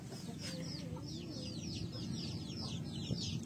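Farm chickens and a rooster cluck in a steady chatter of short calls, moderately distant over a constant low background rumble.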